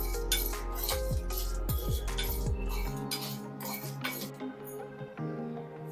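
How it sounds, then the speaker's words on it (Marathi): Whole spices dry-roasting in a kadhai over a low gas flame give off a close, steady run of light rattles and metallic clinks as they are stirred, with no talking. "अगदी बारीक गॅसवरती छान सुगंध सुटेपर्यंत आपण हे भाजून घेणार आहोत"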